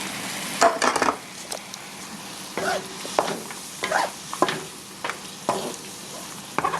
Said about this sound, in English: I'm going to throw in my my shrimp first